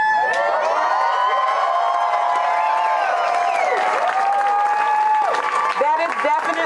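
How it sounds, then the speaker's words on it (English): A large crowd shouts and whoops with scattered applause, loud and sustained, voices overlapping in a noisy cheer. "Reason for applause"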